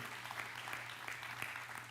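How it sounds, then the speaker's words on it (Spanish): Congregation applauding during a church service, a faint, steady patter of many hands over a low hum, distant and quiet throughout. "Dale un fuerte aplauso al Señor Jesús."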